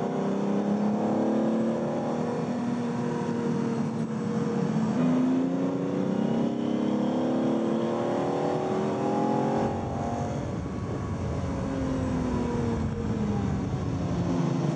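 A Lamborghini accelerates hard, its engine note climbing and droning continuously, loud and close, with a shift in tone partway through as the revs change.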